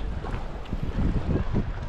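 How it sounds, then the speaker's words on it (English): Strong wind gusts across a lake where someone is paddle boarding, roaring as loud microphone buffeting with rumbling swells that peak in the second half. "it's like super windy"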